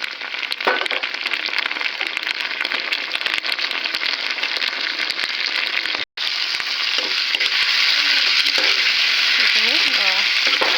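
Loud continuous sizzling of tomatoes frying in a pan, with occasional stirring scrapes and a brief break midway, no voices.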